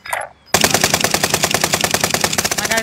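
Rapid automatic gunfire from a video game on the Caldera map: a short faint sound, a brief pause, then a loud, sustained stream of evenly spaced shots running without a break to the end.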